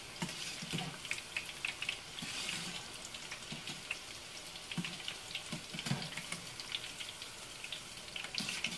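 Spinach pakoras fry in hot oil with a soft, busy bubbling sizzle, joined by light clinks and water-like splashes at close range, with no speech.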